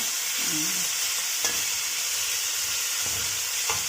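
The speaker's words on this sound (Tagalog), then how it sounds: "nagluluto ako ng Filipino food. Kaya ginisang ampalaya." Bitter gourd, ginisang ampalaya, sautéing in a pan, a loud continuous sizzle and hiss of frying with a few utensil scrapes and stirring knocks over the top.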